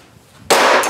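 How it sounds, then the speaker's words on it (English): A single loud, sharp crack as a cheap clone game console breaks under a stomping foot, sudden and close after a quiet moment, with no speech. "I can just stomp on it and it'll break"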